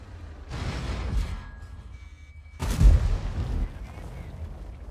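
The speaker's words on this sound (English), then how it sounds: "Come on, Dar, shoot" Tank cannon fire in a video game, heavy tank training match with an IS-7: two loud booming shots, the second heavier, each trailing into a rumbling decay.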